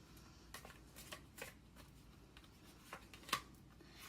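Tarot cards ripple and flick as a deck is shuffled and cards are drawn, a soft continuous riffle with a few sharper snaps, close and quiet with no talking.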